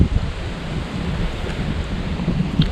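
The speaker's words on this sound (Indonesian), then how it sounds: "karena angin berembus cukup kencang" Strong wind blowing at a hilltop lookout in Magelang, a continuous low rumbling buffet on the microphone with steady gusts and no talking.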